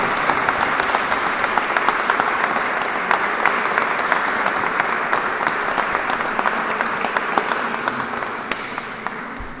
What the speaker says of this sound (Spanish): No aplaudáis.